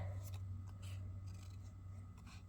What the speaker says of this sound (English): cutting from the inside of my paper snips, not from the tip, and moving my paper and not my scissors